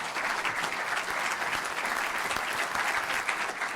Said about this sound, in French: On peut t'applaudir un grand merci.